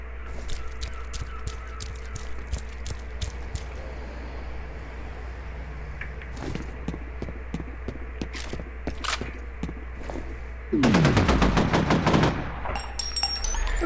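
Gunfire from the first-person shooter F.E.A.R.: scattered sharp shots through the first half, then a loud dense burst of rapid firing near the end, over a steady background hum.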